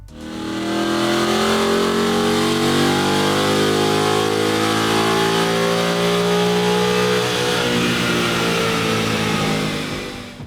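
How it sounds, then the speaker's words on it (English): A Ford Mustang engine runs on a chassis dyno during calibration. It gives a loud, sustained roar that climbs steadily in pitch through a full-throttle pull, then eases off near the end, heard close and alone. "And back to the dyno for Vlad to dial in the calibration."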